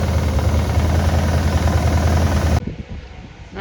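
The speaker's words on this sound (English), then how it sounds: "We got it running, got it idling, seeming to build oil pressure, coolant, whatnot." A 1966 Pontiac Grand Prix, abandoned for eight years, idles after being restarted: a loud, steady, throbbing V8 rumble with a fast pulse that continues for most of the stretch, then cuts to a quieter, rougher sound near the end.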